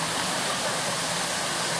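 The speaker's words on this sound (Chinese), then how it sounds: "这是伫南投县中寮乡的龙凤瀑布" Longfeng waterfall in Zhongliao, Nantou County, heard as a steady, dense roar of falling water, loud and even throughout with no other sounds.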